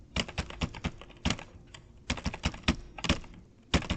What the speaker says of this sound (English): I'm pressing my keyboard so hard.